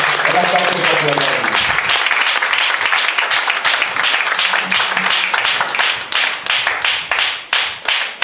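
Sustained, dense applause from a church congregation, with a voice briefly audible at the start before the clapping fills the room and tapers slightly toward the end.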